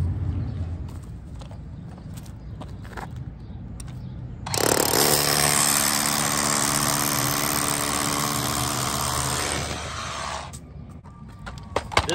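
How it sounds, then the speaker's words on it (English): A power drill bores holes into blacktop alongside a building for termite treatment, starting abruptly with a loud, harsh grinding whine that holds steady for about five seconds and then cuts off, with quieter outdoor sounds before and after. "This side of just blacktop is actually drilling incredibly easy,"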